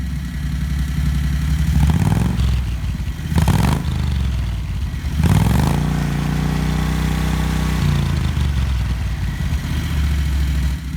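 A 670cc Predator engine on a Renault idles and revs in short bursts through a newly fitted muffler, loud and close, with no talking.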